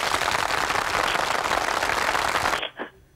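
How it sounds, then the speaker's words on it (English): A studio audience applauds Natalie on a homework hotline anniversary show, steady, dense close clapping for about two and a half seconds before stopping abruptly. "In fact, you deserve a round of applause."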